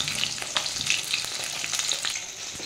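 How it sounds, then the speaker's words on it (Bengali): Rohu fish pieces frying in oil, a busy close sizzle with crackling pops and spatters throughout, steady and moderately loud with no voices. "এদিকে আমি মাছ ভাজতে দিয়ে দিয়েছি, মাছটা ভাজা হোক।"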